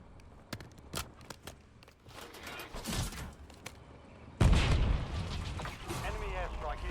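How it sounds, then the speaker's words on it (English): An airstrike in Call of Duty Warzone opens with scattered distant bangs and rumbles, then a heavy explosion lands nearby and leaves a sustained roaring blast and debris wash, with a voice briefly heard. "Enemy airstrike in the area."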